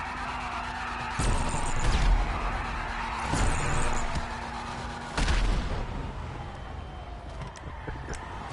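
Gunfire in the GTA 5 video game during a car meet, several sharp loud bursts spaced a couple of seconds apart over steady engine and game noise.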